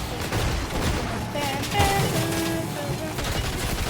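Bursts of gunfire from a video game played while driving a DeLorean, rattling repeatedly over a steady mix of in-game sound and engine tones, with a voice briefly audible.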